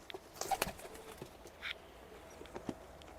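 Giant Dutch racing pigeons make soft, brief coos and a few bursts of wing flapping nearby, scattered over a quiet background with no talk.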